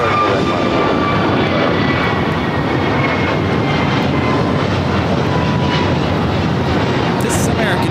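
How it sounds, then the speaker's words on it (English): An American Airlines A321neo jet takes off for Atlanta at Los Angeles airport, a loud, close, continuous engine roar filling the whole stretch, with voices in the background. "This is American Airlines 753 taking off to Atlanta on the A321neo."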